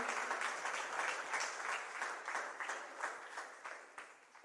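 A church congregation claps and applauds continuously during a service, a dense rippling patter that gradually fades toward the end.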